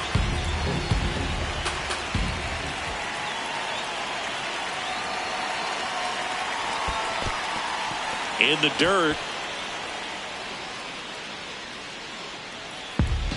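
Baseball stadium crowd during a tense 1-run ninth inning, Yankees vs Athletics: a steady, broad wash of crowd roar with brief louder swells, a distant announcer voice over it.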